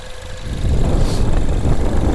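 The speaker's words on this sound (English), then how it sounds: "Here's our 4-cylinder EcoBoost engine." A 2015 Ford Focus ST's 4-cylinder EcoBoost engine idles under an open hood, a loud, steady low rumble that thickens slightly partway through, heard up close without speech.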